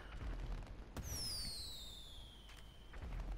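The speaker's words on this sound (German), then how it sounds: "Das war ganz offiziell das Feuerwerk fürs neue Jahr" In GTA 5, a sharp pop sets off a long, descending whistle as a New Year firework rocket flies, followed by a couple of softer crackles and booms.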